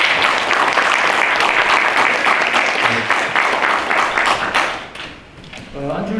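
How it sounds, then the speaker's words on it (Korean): A forum audience at a youth 4.0 event applauds Ahn Cheol-soo with loud, close, dense clapping for about five seconds. It fades quickly, and a voice begins speaking at the end. "우리 미래학자 안철수 대표께 큰 박수를 부탁드립니다"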